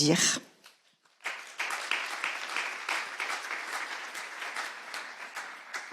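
Audience applause at a sustainable-finance round table conference, following a short burst and a pause, then sustained steady clapping from a sizeable crowd at moderate distance.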